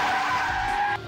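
A race car in the video game Sweet Fuse skids around a track curve under boost, giving a loud, steady tire squeal that holds for about a second before cutting off abruptly.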